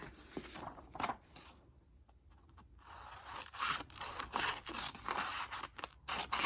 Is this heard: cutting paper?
yes